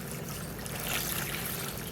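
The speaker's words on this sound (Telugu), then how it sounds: "ఇక్కడ పైనుంచి కూడా కొన్ని వాటర్ పోస్తానండి." Water poured from above over potted flowering plants gives a steady, soft trickling and splashing wash that runs on evenly throughout.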